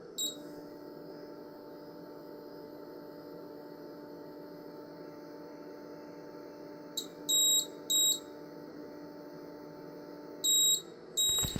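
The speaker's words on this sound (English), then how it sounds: "this will go down and beep when it decides it's reached the home level" Quiet hum of an Anycubic Photon resin 3D printer with a steady drone, then a few short, high electronic beeps in quick pairs as it reaches home position, followed by another pair near the end.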